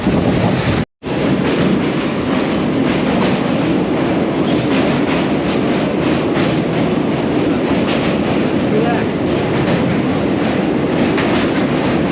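The Uttaranchal Sampark Kranti Express, on the Delhi to Kathgodam route, runs through Garhmukteshwar railway station without stopping. A loud, continuous rumble with rhythmic clickety-clack of wheels on rails is broken only by one brief dropout early on.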